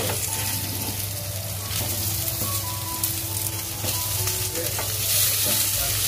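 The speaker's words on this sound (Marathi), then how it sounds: "आता आपण सर्व जे हलवा आहेत त्यांना पलटी फिरवून घेतो।" Pomfret fish pieces fry in an oiled pan as they are turned over, a constant crackling sizzle with a few soft clicks and knocks from the flipping, close and even in level.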